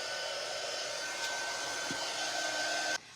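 A hair dryer blows steadily up close, drying paint on a stenciled wooden cutting board, a loud constant whoosh with a faint whine that cuts off abruptly near the end, no talking.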